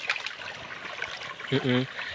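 Water flows steadily at the Thenga Urali waterfall, a thin, low stream trickling near, with a voice speaking briefly over it toward the end.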